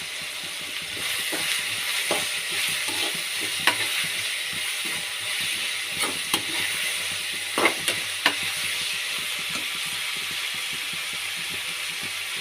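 Curry leaves, ginger and garlic frying in a pan, a steady soft sizzle with intermittent clinks and scrapes of a spoon stirring, close and moderate in level, no talking.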